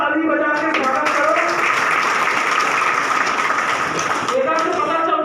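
Loud, continuous welcoming applause from a crowd at a Chhattisgarh daily-wage employees' union gathering in Rajnandgaon, dense clapping with voices mixed in throughout.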